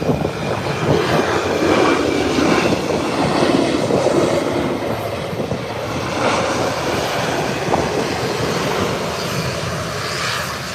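A Delta Airbus A320 from Atlanta rolls on the ground at Howard Hamilton International Airport. Its engines give a continuous, loud, rushing whine and rumble with gentle swells, and no voices are heard.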